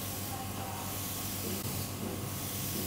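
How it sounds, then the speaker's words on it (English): An airbrush loaded with brown colour and fitted with a finer needle sprays onto a carved Halloween pumpkin cake, giving a steady, close, continuous airy hiss throughout. "So I've now got brown in my airbrush."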